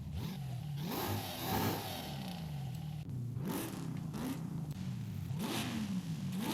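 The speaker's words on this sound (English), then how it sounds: "Let's actually listen to the exhaust here." A Corvette ZR1 with a race exhaust revs repeatedly in a deep, throaty pattern, the pitch climbing and falling in several rises over a steady low rumble, heard from some distance and fairly faint.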